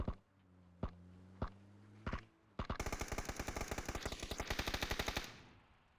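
Gunfire in PUBG: a few spaced single shots, then a rapid, loud burst of automatic fire lasting several seconds before cutting off.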